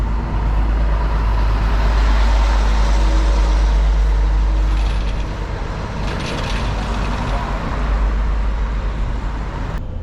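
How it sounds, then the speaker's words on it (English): A truck rumbles loudly close by on a road, a heavy low-frequency drone that fills the whole stretch, easing slightly midway and then swelling again, with no talk. "I got a truck that's behind me that's just going to be picked up with the noise level."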